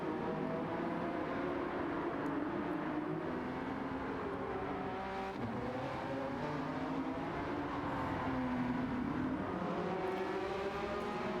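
Race cars in Gran Turismo 7 roaring steadily down a straight, several engines overlapping with rising and falling pitch, loud and continuous throughout.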